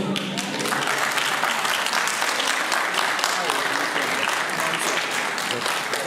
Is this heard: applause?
yes